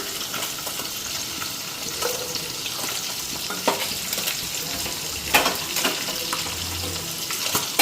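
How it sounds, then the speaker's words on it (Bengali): Fish frying in a pan during home cooking, a steady sizzle running throughout with occasional stirring clatter and brief louder clinks, fairly close and even in level, with no talking. "মাছটাও এক পিঠ ভাজা হয়ে গেছে।"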